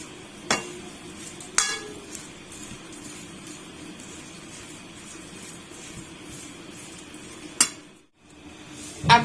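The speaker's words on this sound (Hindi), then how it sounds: "अब अच्छे से मिक्स करेंगे।" A kadhi mixture is stirred in a pot, with a few sharp clinks of utensil against the vessel scattered over a soft, steady kitchen background.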